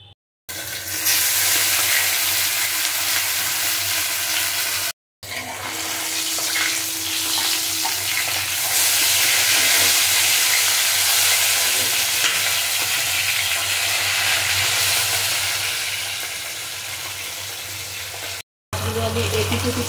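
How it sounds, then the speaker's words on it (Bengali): Tilapia pieces fry in hot oil in a home kitchen, giving a loud, steady sizzle and crackle that runs throughout, broken only by a few brief cuts. "আমার তেল গরম হয়ে গেছে। এবার একে একে মাছগুলো ছেড়ে দেব।"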